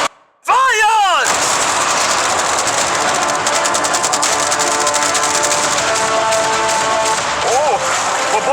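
A volley of 100 cannons fires all at once in a large staged challenge, making a sudden heavy boom followed by a long, dense roar of continuous blasts and rumbling that lasts several seconds.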